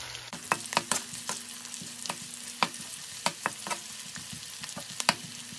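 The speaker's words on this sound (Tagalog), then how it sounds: "isunod yun na yung bawang" Chopped garlic fries in a pan for Filipino pancit bihon, added after softened aromatics: a steady close sizzle broken by sharp, irregular clinks and scrapes of a stirring utensil.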